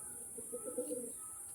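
A high-flying Girribaz pigeon coos softly a few times in a short rolling burst, fairly close, over a faint steady background hiss.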